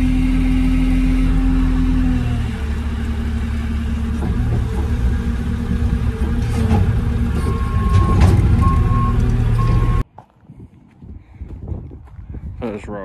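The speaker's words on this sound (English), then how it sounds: "Just filling the concrete lorry up." A concrete mixer lorry idles loudly on a farm building site while being topped up with sand and gravel for steel-frame building foundations, its engine drone steady and heavy, with a reversing beep repeating near the end before the noise cuts away.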